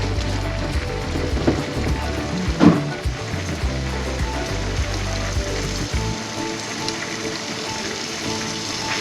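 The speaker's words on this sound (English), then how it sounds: "every time I stir fry, I saute some onions and garlic" Tofu, onions and garlic sizzle steadily in a hot stir-fry pan, a dense close crackle with occasional stirring bumps, fading toward the end; no voices.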